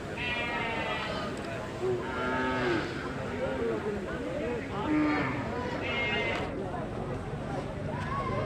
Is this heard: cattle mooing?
yes